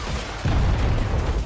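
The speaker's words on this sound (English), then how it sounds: "Even if the rocket itself doesn't hit you, the explosion makes a large damage radius" A rocket explosion in the Just Cause 4 video game lands as a sudden deep boom and then rolls on as a dense, loud rumble with no voices.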